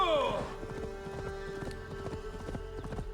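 Horse hooves clip-clop in Assassin's Creed Valhalla, a steady run of close, sharp footfalls over a held ambient tone, with a louder burst at the start.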